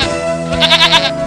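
A sheep gives a single wavering bleat, loud and close, as a sound effect in an animated children's story.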